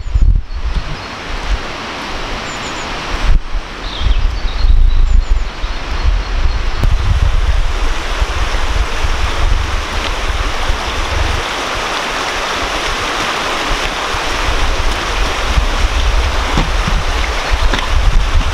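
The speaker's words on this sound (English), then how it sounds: "this is a working dam and that is a working water wheel" Water rushes steadily over the working dam and turns the water wheel at Shepherd's Wheel on Sheffield's River Porter, a loud, continuous broadband roar with no speech.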